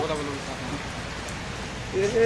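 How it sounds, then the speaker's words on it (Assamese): Heavy rain falls steadily, a dense close patter of drops on surfaces that continues throughout without pause. "ইমান ডাঙৰ বৰষুণ দিছে"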